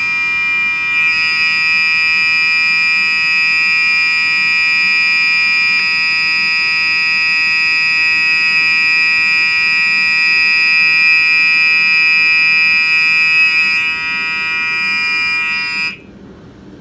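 A first-generation Gentex SHG fire alarm, wired up and powered at 27 volts, sounds a loud, steady, continuous tone close by for about sixteen seconds before cutting off, with no talking over it.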